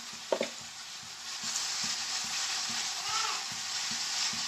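Spice paste with chilli frying in a pan, a soft continuous sizzle with faint, regular scraping stirs, fairly quiet and close with no talking.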